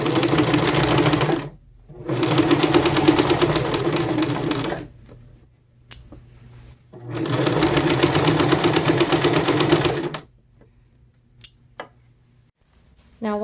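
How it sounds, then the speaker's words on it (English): A sewing machine stitches a pair of elastic-waist medieval-style pants in two long steady runs of a few seconds each, a brief pause between them, followed by quiet handling and a few faint clicks. "And now it's time to start sewing."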